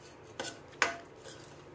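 A dry fruit mixture stirred in a pan for mewa paak: a spoon scrapes, then knocks twice against the metal, with one sharper clack standing out over a quiet background.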